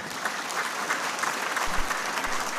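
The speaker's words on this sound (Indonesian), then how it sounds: "boleh beri tepuk tangan" Conference audience applauding at an LDII national working meeting in 2023, a steady wash of clapping that carries on without a break from start to finish.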